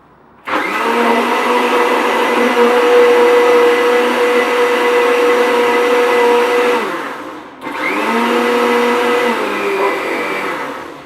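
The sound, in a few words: blender mixing protein shake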